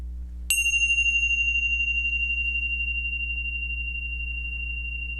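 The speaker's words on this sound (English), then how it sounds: "I'll ring the bell a 3rd time for them." A single bell struck once during Sunday worship, a clear ringing tone that sustains and slowly fades over several seconds above a steady low hum.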